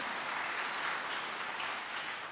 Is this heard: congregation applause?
yes